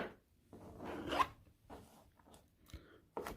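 A knife slices through a vegetable for salsa on a cutting board, giving several short, close rasping cuts separated by brief pauses.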